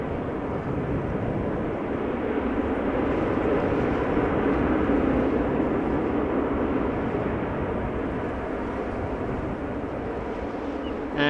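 An airliner lands on runway 06 at Amsterdam Schiphol Airport, and its loud, steady jet roar holds close and unbroken throughout.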